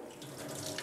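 Rinse water from a tray poured through a fine sieve during nematode extraction from soil, a short continuous splashing stream, close and steady.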